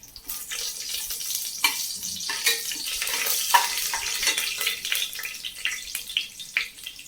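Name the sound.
whole spices frying in hot oil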